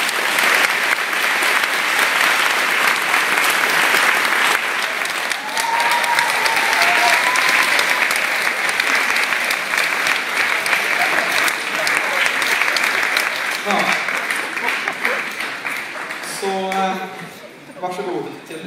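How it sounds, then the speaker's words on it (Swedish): Warm applause at a Christmas party for a former chairman, loud sustained clapping filling the room with some voices and whistles mixed in, tapering off as people start talking near the end. "Så jag tycker vi börjar med att ge vår förra ordförande Lukas en varm applåd för de 2 år som har suttit."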